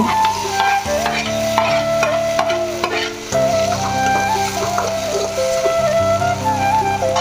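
Onion, tomato and curry leaves fry in a pan for bread vaggarane, a steady sizzle with stirring scrapes running throughout beneath loud, continuous background music.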